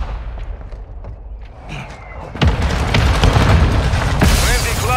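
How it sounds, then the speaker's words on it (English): Mortar strike explosions in Call of Duty: Modern Warfare II team deathmatch at Valderas Museum, with a loud, deep blast followed by sustained rumbling and scattered impacts over game background noise and voice callouts. "Hostiles launched a mortar strike."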